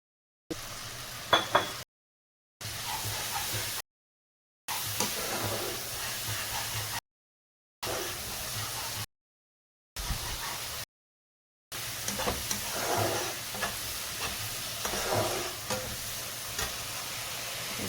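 Ground spice paste for a Bengali katla fish kalia sizzles and hisses in a pan after a splash of water, a steady close frying noise broken by short silent gaps, with occasional stirring knocks.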